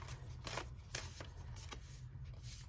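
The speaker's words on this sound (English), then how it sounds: "And I shuffled this a lot. Jumpy cards today." A deck of tarot cards is shuffled by hand during a reading, giving repeated soft riffling bursts and flicks at an irregular pace, close but quiet, with no talking.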